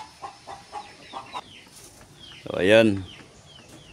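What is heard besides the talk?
hens clucking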